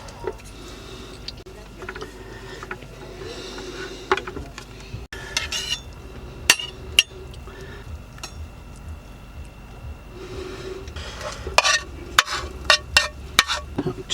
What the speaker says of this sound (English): I'm just going to slice it into bite-sized pieces